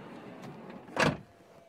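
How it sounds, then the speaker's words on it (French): A single soft thud as the door of a Volkswagen T6 California van is closed from inside, a brief muffled impact against quiet background hum. "Je ferme la porte"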